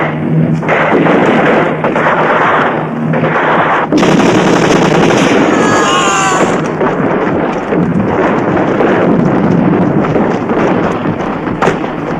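Sustained automatic gunfire in a French action film, loud and continuous for twelve seconds with bursts of heavy rattling and brief explosive swells, nearby and dominant.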